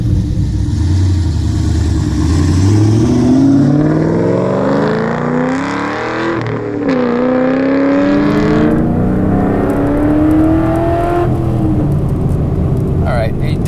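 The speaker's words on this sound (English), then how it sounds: "Alright, it does sound amazing." A Camaro Z28 V8 revs hard while driving, its engine note sweeping up and down through repeated gear pulls, loud and close inside the car, with a voice speaking over parts of it.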